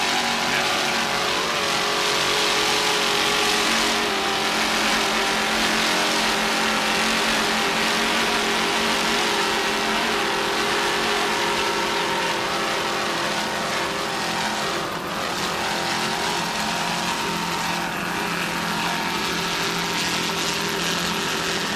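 A 39-foot Fountain offshore racing powerboat with twin 740 horsepower Sterling inboard engines, roaring in a steady loud drone that swells and dips slightly throughout, heard during a 1998 Drambuie Grand Prix race.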